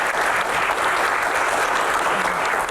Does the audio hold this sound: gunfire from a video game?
no